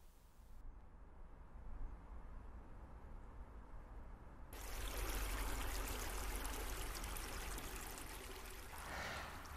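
River water flowing in a steady, broad rushing wash, near and continuous, rising sharply in loudness partway through and holding there with a constant hiss-like roar.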